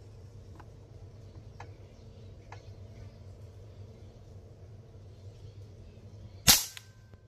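A single sharp, loud report from a Hatsan Blitz full-auto PCP air rifle rings out near the end, after a few faint ticking clicks over a low background hum.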